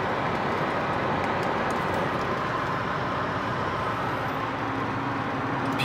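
A 2000 Chevrolet Impala sport sedan cruising at about 70 mph on a highway, heard from inside the car as a steady, loud rumble of road and engine noise with no talking.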